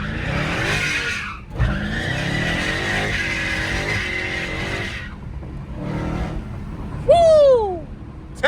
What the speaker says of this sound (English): This Hellcat's something serious, man.